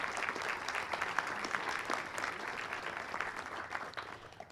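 Dense, steady applause from a ceremony audience at a Veteran's Day event, greeting President Joe Biden, sustained evenly from start to finish with no voices on top.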